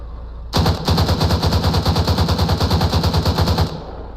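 Automatic gunfire in Arma 3 Antistasi, one sustained burst of evenly spaced rapid shots lasting about three seconds, loud and close, with no talk over it.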